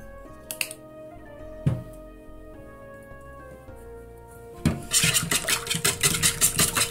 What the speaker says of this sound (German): Das wird jetzt gut umgerührt.